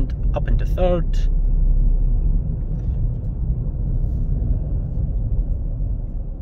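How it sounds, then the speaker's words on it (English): Steady low rumble of a Ford Fiesta's engine and road noise from inside the car as it pulls out in second and shifts up into third, with someone talking briefly near the start. "Just pulling out here in second, up into third."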